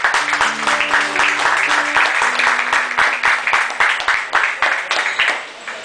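Loud, enthusiastic audience applause at a live music performance with piano accompaniment, many hands clapping densely and steadily throughout, close and full, with faint sustained tones and a bit of crowd voice underneath.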